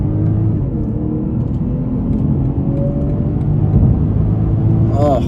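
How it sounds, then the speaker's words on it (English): A 2023 BMW 540i pulls away hard in first gear from a standing launch, its engine a steady, loud rising drone heard from inside the cabin, with a brief whoosh near the end. "All right, guys, first gear off the line. Let's go."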